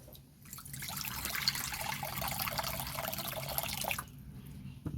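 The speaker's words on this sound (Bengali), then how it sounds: "কড়াতে দিয়ে দেবো জল।" Water pours into a kitchen wok in one steady, soft stream lasting a few seconds, faint and close, with quiet surroundings before and after.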